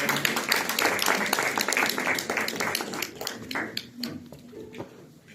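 Applause from an audience at a nutrition and emotional health congress, with dense clapping through the first few seconds that thins and fades toward the end while a voice murmurs underneath.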